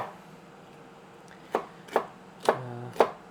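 Vegetables being diced with a knife, four crisp chops on a board after a quiet pause, spaced about half a second apart and close up.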